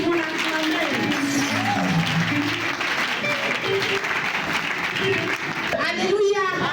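An audience at an AOC celebration in a church applauds its president, sustained clapping from a crowd with voices calling out in between.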